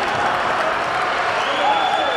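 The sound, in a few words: basketball crowd cheering and applauding a home win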